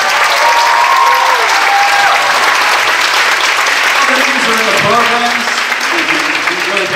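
Loud, continuous audience applause at a spring a cappella concert, dense clapping with cheering and scattered voices throughout.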